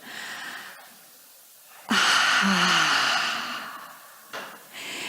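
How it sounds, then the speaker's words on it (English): A lecture audience draws a breath together and exhales as one, a loud, airy group sigh swelling for about two seconds before fading, with softer breathing around it. "So let's just all take a breath together."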